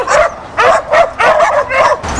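Dogs at a rescue shelter let out short barks, yips and whimpers, about five loud close bursts spaced in a quick, uneven rhythm.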